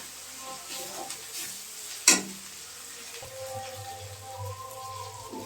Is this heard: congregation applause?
no